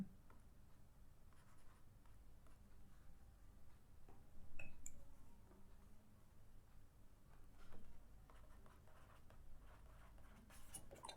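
Pen scratching across paper during a history lesson: soft, irregular strokes and taps with brief pauses, faint and close, with no talking.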